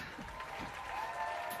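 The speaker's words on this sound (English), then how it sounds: "What the hell is that applause coming from?" Applause breaks out on a stage show welcoming a performer, a steady wash of clapping at low level with faint voices mixed in.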